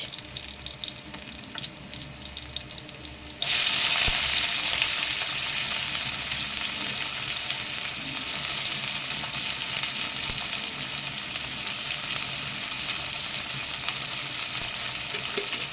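Chopped onions hit hot oil a few seconds in, and a loud, steady sizzle then fills the rest of the clip, cooking for a Bengali mourola fish and brinjal curry, with no talk.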